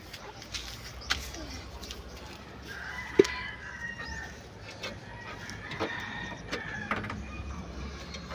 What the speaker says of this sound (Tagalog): Nagpapakain si mama ng chicken, anak.